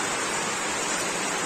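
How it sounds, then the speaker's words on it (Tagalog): Heavy rain pours steadily in a dense, loud, unbroken hiss throughout, with no voices. "Lakas kasi ng ulan."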